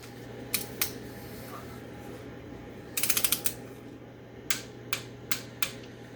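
Ratchet clicks from a torque wrench tightening an idler pulley to 18 foot-pounds on an Audi A4 2.0T FSI engine, with two single clicks, then a quick burst of five or six clicks and four evenly spaced clicks, close and fairly quiet.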